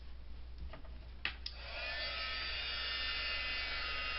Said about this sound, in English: So let me warm up my heat tool and we'll get it going.